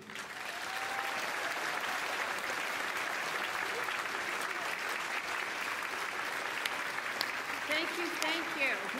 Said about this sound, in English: give them one more round of applause for their service, for their gifts